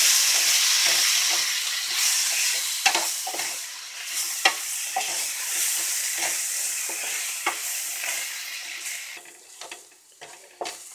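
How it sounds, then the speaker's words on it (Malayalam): Onions and chopped tomato with curry leaves are sautéed in a pan, giving a continuous soft sizzle broken by repeated scraping strokes and taps of a spoon against the pan. "എന്നിട്ട് വീണ്ടും വഴറ്റുക."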